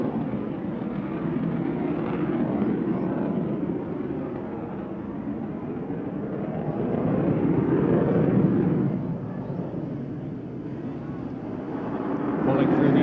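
A US Navy Blue Angels jet performs a split S just after takeoff at an aerial demonstration. Its steady, distant engine roar swells and fades over several seconds.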